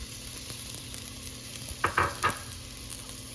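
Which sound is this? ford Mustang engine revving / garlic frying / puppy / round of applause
garlic frying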